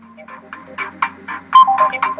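A custom iPhone ringtone made in GarageBand plays, a bright, rhythmic run of short synthetic notes in quick succession, close and fairly loud, with no talking.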